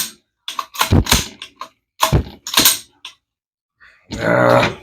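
A NAK-9 pistol fitted with a MARS trigger is dry-fired and reset on a bench, giving a few sharp close mechanical clicks and snaps separated by pauses, followed by a longer rattling mechanical sound.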